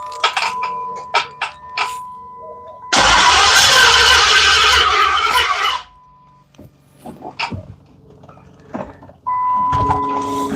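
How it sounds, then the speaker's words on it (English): A misfiring Dodge 5.7L Hemi V8 with Comp Cams parts is started with the key: a few short clicks and knocks, then a loud close engine roar for about three seconds, a quiet gap, and another burst of engine noise at the end. "I'm going to try turning the key again."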